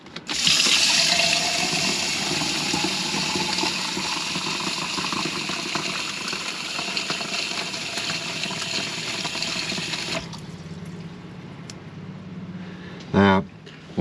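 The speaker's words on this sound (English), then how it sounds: "see how fast the new pump is going to fill up the 500 millilitres of water" A new fresh water pump in a Hymer motorhome fills 500 ml of water from the tap, giving a loud, steady rushing flow for about ten seconds before cutting off, followed by quieter room noise and a brief knock near the end.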